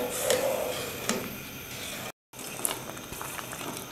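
Semolina halwa made with khoya cooks in a pan, giving a steady close bubbling sizzle with a few soft clinks. The sound breaks off for a moment and then resumes.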